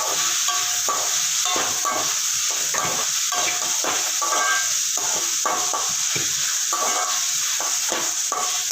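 Four tomatoes sautéing in a pan for a chutney make a loud, close sizzle with rhythmic stirring scrapes repeating about twice a second, steady throughout with no talking.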